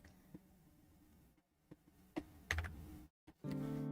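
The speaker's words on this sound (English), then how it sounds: "it looks like it picks up my keyboard sound a little bit" Computer keyboard typing during a livestream, a faint run of small clicks and taps with a few sharper keystrokes, picked up quietly in the background without any talk.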